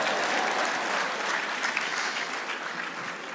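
An audience claps, a sustained burst of applause that fades slightly toward the end, with no voices heard.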